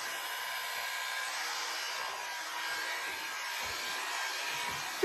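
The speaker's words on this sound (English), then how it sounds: "So don't be afraid to use hot airbrush." A hot air brush blows on a synthetic wig, giving a steady, even whoosh of airflow close by that stays constant throughout.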